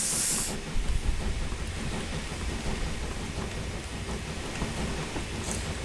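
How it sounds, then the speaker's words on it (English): A steam locomotive in Train Simulator 2020 hisses steadily, a broad loud rush of escaping steam with a sharper spurt at the start and another near the end. "Very nice locomotive and really well done by Steam Sound Supreme."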